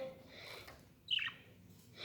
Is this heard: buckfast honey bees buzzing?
no